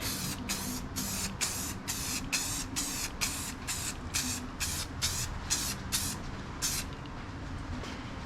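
A spray can puts paint on a metal plate in about a dozen short, evenly spaced hissing bursts, close and fairly loud, before the bursts stop near the end.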